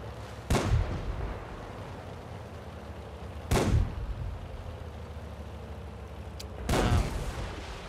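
Tank cannon fire in World of Tanks, three heavy booming shots spaced a few seconds apart, each a sharp loud blast that rolls off into a low rumble, with no talking.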